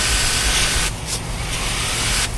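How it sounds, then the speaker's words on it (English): Battery-powered electric sprayer spraying close up, a steady hissing mist with a low electric motor hum underneath, interrupted by a couple of short pauses. "the test of a good sprayer is you shouldn't be able to hold your hand in front of it"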